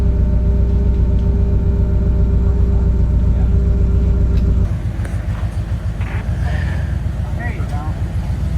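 Off-road rig at a trail event crawling out over rocks, a steady loud engine rumble that drops in pitch and roughens midway as it pulls away, with people talking nearby.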